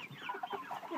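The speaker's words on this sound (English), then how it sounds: "this is a coop we're keeping our meat birds" Meat chickens clucking inside a coop, a steady overlapping chorus of close, moderately loud clucks and murmurs from several birds with no talking.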